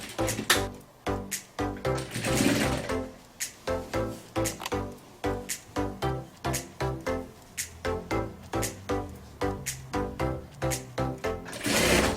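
A sewing machine stitches a gathered ruffle onto a fabric piano chair cover, running in steady rhythmic bursts with short pauses between runs, close and fairly loud with no talking.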